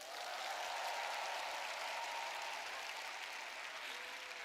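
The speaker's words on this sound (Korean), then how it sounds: "여러분 박수 좀 보내주세요." Applause from a large audience of about thirteen thousand people at a big convention hall event, steady dense clapping that fills the whole stretch at an even level without letting up.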